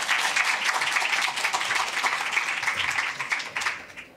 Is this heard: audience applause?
yes